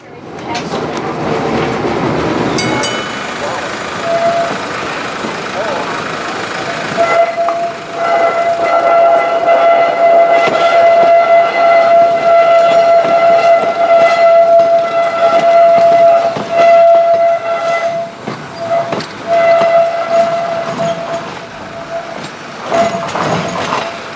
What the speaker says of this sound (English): 1945 is a Peter Witt streetcar built in 1927